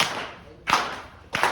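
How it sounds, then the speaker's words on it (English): Slow, deliberate claps from an audience at an Irish bistro comedy show ring out one at a time, three sharp hand claps spaced well apart in a quiet room. "The slow clap going for Dan B."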